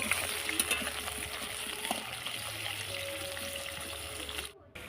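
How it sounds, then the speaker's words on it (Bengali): Potatoes fry in white oil in a pan for a chicken and potato curry, giving a steady moderate sizzle and bubbling that runs throughout before cutting off abruptly near the end. "এই যে আমি এখন আলুগুলো ছেড়ে দিচ্ছি তেলের মধ্যে।"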